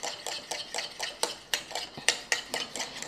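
Aloe vera gel and coconut oil are mixed in a bowl, giving a steady run of light rhythmic clicks and scrapes as a utensil stirs, close and fairly quiet.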